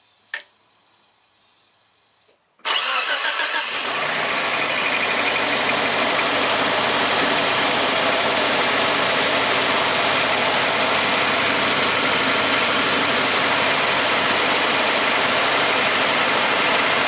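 A Geo Tracker engine cranks and catches after a near-silent pause, then holds a loud, steady idle with a ticking, knocking edge that runs unbroken to the end.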